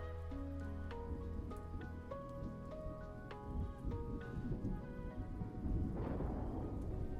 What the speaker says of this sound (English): I do like the sound of rumbling thunder.